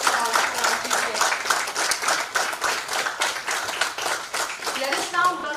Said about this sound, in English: Please give a big round of applause for our chief guest.